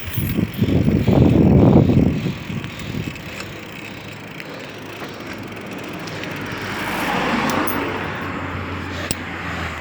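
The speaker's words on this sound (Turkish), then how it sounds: "Araba geliyor." On a road ridden by bicycle, a car approaches from behind with a rising whoosh that swells loud, passes close, then fades, followed by a second softer vehicle rise under steady wind and tire noise.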